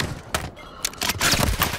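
Video game gunfire aimed at the player's feet: several sharp bursts of shots in quick succession, close and loud, with brief gaps between them and no talk.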